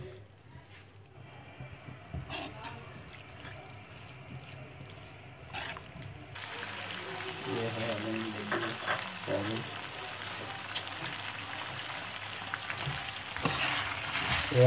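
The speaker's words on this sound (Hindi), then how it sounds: "और इसमें हम अब थोड़ा सा घी डाल के भून लेंगे। इसको अच्छी तरह भून लेंगे।" Mutton pieces frying in ghee in a karahi for karahi gosht, a steady sizzle that builds louder through the middle, with scraping and stirring clatter rising toward the end; no one speaks.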